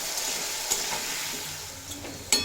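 Potatoes fry in oil with salt and turmeric, a soft, close hiss of sizzling with a few sharp clicks of a spoon or spatula against the pan.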